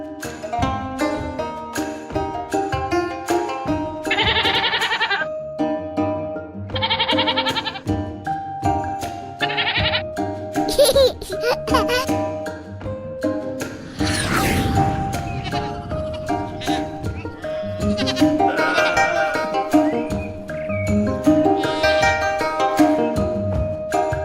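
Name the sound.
goat kid bleating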